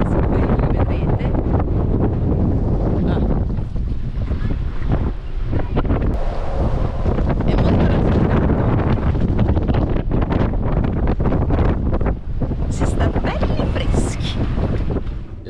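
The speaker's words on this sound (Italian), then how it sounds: "fuori c'è uno scirocco con delle raffiche molto molto forti" Strong sirocco gusts buffet a sailboat lying at anchor off the island of Elba, a constant loud roar of wind on the microphone with rushing water and creaks, swelling and easing without pause.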